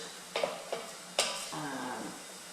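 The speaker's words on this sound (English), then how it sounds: "give that a good stir around" Diced potatoes and parsnip being stirred into frying onions in a pan, with a few distinct scraping clatters of a utensil followed by a softer sizzle and stir.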